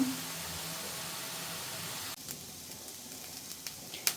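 Spiced cauliflower being mixed in a hot frying pan makes a steady loud sizzle and hiss, which drops off partway through into quieter crackles and a few soft scraping clicks.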